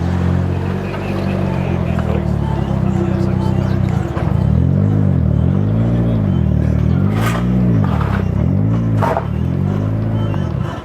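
A Nissan S13 drives around at a JDM car meet, its engine rumbling loud and near, rising and falling through repeated revs as it passes, with crowd chatter and voices in the background.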